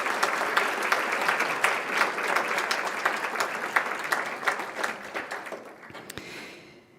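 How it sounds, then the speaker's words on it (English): Audience applause for scholarship recipients at a gala, a broad, sustained round of clapping from a large room that stays strong before thinning out and fading near the end, with no voices over it. "Let's have another round of applause for these wonderful recipients."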